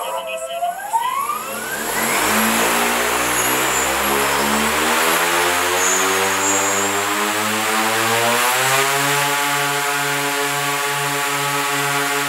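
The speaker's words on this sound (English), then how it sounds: "Next, I did some hang testing to make sure the motors were pushing me evenly." Two drone motors with propellers run during a hang test. A rising whine climbs as they spin up over the first two seconds, then settles into a loud, steady buzzing drone.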